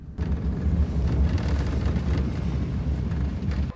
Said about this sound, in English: the first 3 rockets are launched at the occupiers